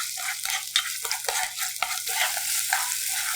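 Sliced garlic and green onion fry for a soft tofu stew, with a steady sizzle punctuated by repeated utensil scrapes and taps as they are stirred in the pan, close and fairly quiet.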